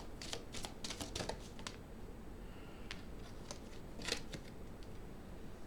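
Cards for a tarot reading are shuffled by hand, giving a run of quick crisp riffling snaps in bursts, faint and close, with pauses between, no talking.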